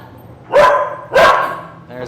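A dog barks close and loud, two sharp barks about half a second apart followed by the start of a third.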